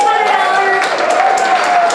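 Audience applause at a charity gala auction, a steady wash of hand clapping throughout the two seconds, mixed with a sustained tonal hum and crowd murmur.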